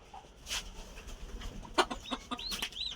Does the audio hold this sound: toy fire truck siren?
no